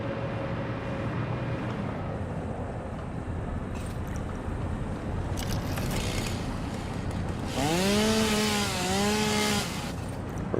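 A chainsaw in a video game cuts a tree in a factory-building game, a steady buzzing engine drone throughout that rises into a louder revving whine near the end, with no talk.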